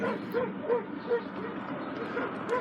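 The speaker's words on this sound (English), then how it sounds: "There's a lot of dogs in here." Dogs bark repeatedly at a moderate distance inside a dog grooming shop near the railroad station in Raton, a rhythmic series of yaps over a murmuring background of voices.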